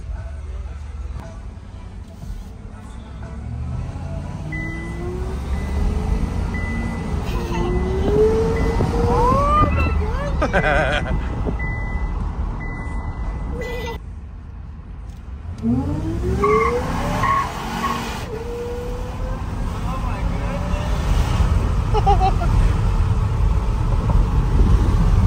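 A Whipple supercharged Chevrolet Z71 Cheyenne truck accelerates hard, its engine rising in pitch through two long pulls, with tire squeal and a steady roar close by and someone talking over it.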